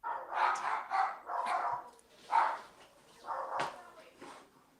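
Several short, high yappy barks from a small dog come in quick bursts, fairly loud and near, with brief pauses between them.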